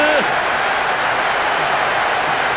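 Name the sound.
opposing supporters booing in football video game Winning Eleven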